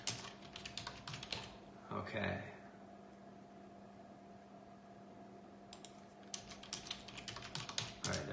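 Rapid clattering keystrokes on a computer keyboard in bursts at the start and again near the end, with a quiet pause between, low room hum beneath and a brief spoken word from a nearby voice.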